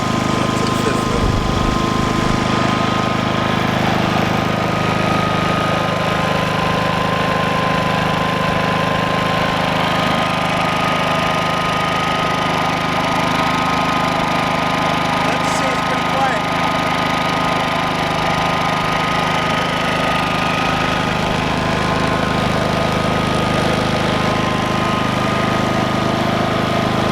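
A Predator 5000 watt dual-fuel inverter generator runs at a constant, loud and steady engine drone with no change in pitch or level throughout.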